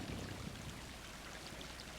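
Rain in the video game Stray, a soft, steady wash of falling drops and water noise, faint and continuous with no voices.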